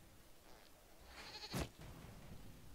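A goat in Dragon Age Inquisition lets out a single short bleat, faint at first and then a sharp, brief cry over quiet game ambience.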